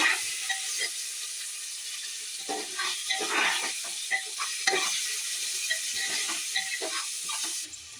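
A vegetarian chickpea curry base with salt and turmeric fries in a pan, a close sizzling hiss broken by repeated scraping stirs of a spatula, with no talking.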